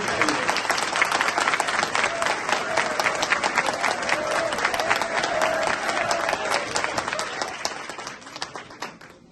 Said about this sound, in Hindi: आप एक बार आदरणीय प्रधानमंत्री जी के लिए जोरदार तालियां बजाइए